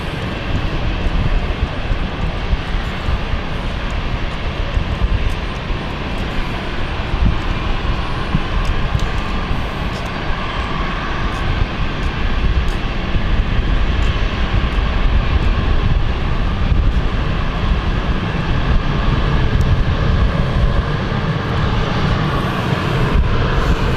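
A London City Airport flight passes overhead as a steady, broad roar that holds loud and even for the whole stretch, with no voices.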